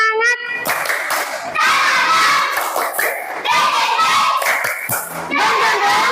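A classroom group claps along to a rhythmic chant, with loud, brisk hand claps mixed with children's voices chanting in unison, close and energetic.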